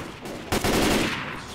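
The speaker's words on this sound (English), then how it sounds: "Oh, I'm sorry, didn't mean to shoot you." Gunfire in the zombie shooter Left 4 Dead comes as a sharp shot followed by a sustained burst of rapid, loud fire, with no voices over it.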